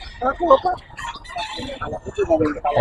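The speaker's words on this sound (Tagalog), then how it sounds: "Mga manok." Chickens for sale at the Grotto market in the Philippines cluck and crow close by, mixed with people talking and market bustle.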